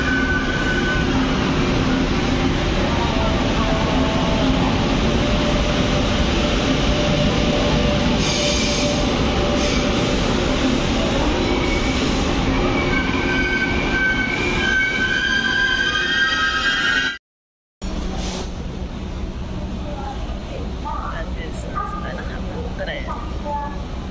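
Interior of a crowded train heading to Taipei Main Station in Taiwan: a continuous loud rumble of wheels on rails with squealing tones and a brief dropout, while passengers talk throughout.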